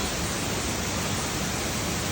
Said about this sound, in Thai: ทันนี้น่าจะน้ำตกชั้นสองเปล่าวะ